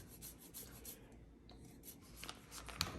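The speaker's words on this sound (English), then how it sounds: "as we're grating the cheese" Cheese being grated for sous vide egg bites, a quiet continuous rasping scrape with a faint rhythmic back-and-forth, close up and alone.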